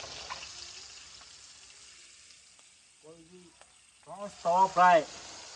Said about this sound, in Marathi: प्रॉन्स तवा फ्राय